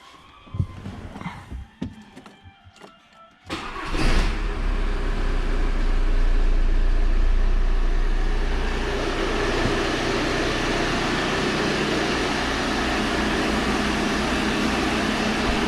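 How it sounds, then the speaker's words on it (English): An Audi A6 2.0 TDI diesel engine cranks briefly after some clicking, then catches and settles into a steady, loud idle that runs on, with no one speaking. "Now I can start the engine."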